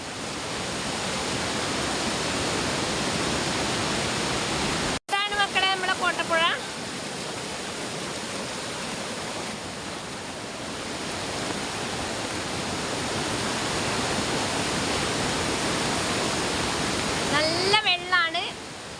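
A loud, continuous roar of a swollen, overflowing river rushing past fills the scene, with a few chirping calls breaking through briefly near the start and the end.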